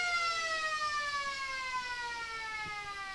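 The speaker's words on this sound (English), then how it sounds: "the siren goes to end the game here at the Gammain Sports Ground" A long, steady electronic siren sounding to end an Australian rules football game at a country sports ground, loud and continuous with a slowly falling pitch and no talk over it.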